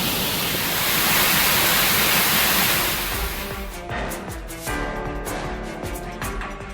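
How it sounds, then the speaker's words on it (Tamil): Flooded Kumbakkarai falls after heavy rain, a loud, dense roar of rushing water that fills the first few seconds, then drops to a somewhat quieter steady wash with faint scattered clicks. "பெய்த கனமழையால் அருவியில் வெள்ளப்பெருக்கு ஏற்பட்டது"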